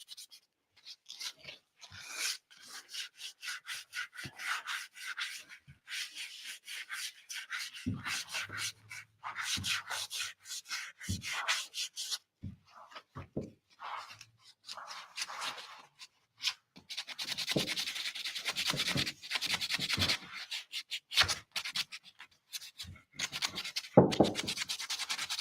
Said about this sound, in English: you can always sand them off and then it just looks good